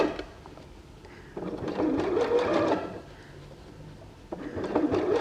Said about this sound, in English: sew a little bit at a time so that you can flatten out that fabric as you're stitching it